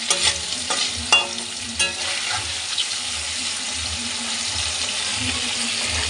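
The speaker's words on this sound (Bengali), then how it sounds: "দেখো পনিরগুলো ভাজা হচ্ছে" Paneer pieces fry in hot oil in a home kitchen pan before going into a curry, a steady close sizzle with a few sharp scrape and clatter knocks as the pieces are turned.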